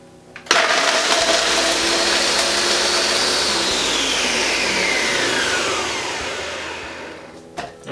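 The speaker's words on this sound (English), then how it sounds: "And give it a good minute or so in the blender." A blender runs loud and steady for about seven seconds blending a vegan carbonara sauce, its whirring motor starting with a click and then winding down at the end.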